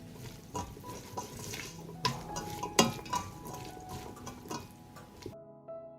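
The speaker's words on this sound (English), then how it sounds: "I'll stir." A spoon stirs vegetable soup in a pot, giving soft swishing with scattered metallic clinks and taps against the pot, close and alone before it cuts off.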